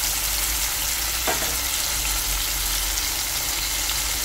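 Onions, tomato pieces and curry leaves fry in hot oil with a tempering for a stir-fried cabbage curry, giving a loud, steady, close sizzle broken by one brief stirring clink.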